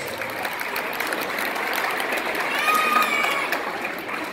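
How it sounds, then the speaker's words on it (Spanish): Wedding guests clap together for the newlyweds' first waltz, a steady crowd applause that swells briefly near the end, with faint voices and cheers mixed in. "¡da fuertes aplausos!"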